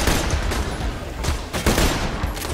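Borderlands 2 gunfire in Fink's Slaughterhouse, a dense clatter of overlapping shots with a few heavier bursts standing out, close and fairly loud.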